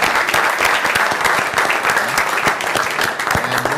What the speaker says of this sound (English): we'll do a little round of applause